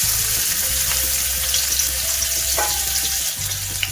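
Green chilli and garlic fry in hot oil for a spinach (palanga saga) stir-fry, making a close, loud, continuous sizzle with faint stirring clinks and no talking.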